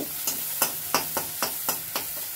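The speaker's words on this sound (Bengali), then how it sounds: "দিয়ে পেঁয়াজ আর রসুনটাকে একটু ফ্রাই করে নিচ্ছি। গ্যাসের ফ্লেমটা হাইতেই রেখেছি।" Onion and garlic frying on a high gas flame, a loud continuous sizzle punctuated by regular spatula scrapes and taps roughly every third of a second, close up with no talk.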